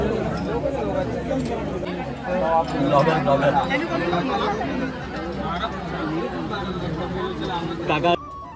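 Dense crowd chatter fills a busy carriage of the Konkan Kanya Express on the Konkan Railway, many overlapping voices talking at once under a low rumble of movement.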